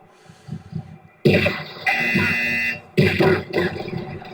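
A harsh electronic buzzer at a wrestling-style rumble event blares loudly in two long bursts, cutting sharply over a murmur of crowd noise.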